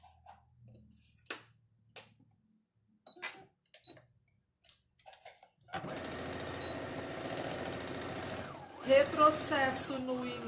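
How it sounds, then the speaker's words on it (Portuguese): Sewing machine stitching a doll's blouse with contrasting thread: a few scattered clicks and handling taps, then a fast steady mechanical whir of stitching starts up and runs to the end, briefly changing pace near the finish. "Vou costurar tudo e vou mostrar para vocês, porque eu tô costurando com uma linha contrastante"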